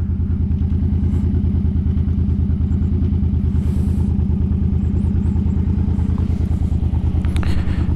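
A Suzuki M50 motorcycle engine pulses steadily with a loud, even low-pitched thump while riding, a constant close rumble with faint wind and rattle on top.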